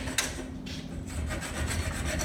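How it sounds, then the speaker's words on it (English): A metal file rasps over burrs left by a tightened set screw on a garage door torsion spring part, giving a few quick, close scraping strokes in a short rhythmic burst. "just file those burrs down real quick"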